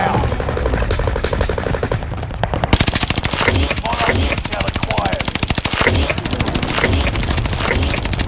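Rapid automatic gunfire from the video game Call of Duty Warzone rattles in loud, dense bursts, with a sharper, brighter stretch of continuous shooting after the first few seconds.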